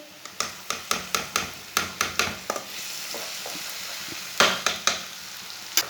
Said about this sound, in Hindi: आधा चम्मच लहसुन का पेस्ट डालेंगे।